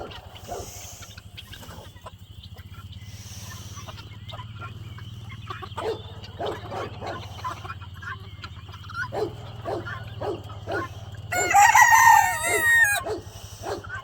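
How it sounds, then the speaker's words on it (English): A rooster crows once, close and loud, near the end, after a stretch of dog barks, clucking, guinea fowl and farmyard sounds over a low hum. "There's the rooster she's waiting on."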